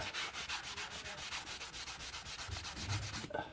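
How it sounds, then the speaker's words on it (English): A polishing pad and polish are rubbed over Honda CB250N motorcycle carburetors, giving a soft, even series of rhythmic rubbing strokes up close. The strokes are fairly quiet and heard alone, with no talking. "Bit of a polishing pad and some polish."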